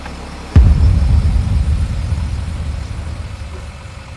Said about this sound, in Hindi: गाड़ी का इंजन जोर से आवाज करता हुआ अचानक बंद हो गया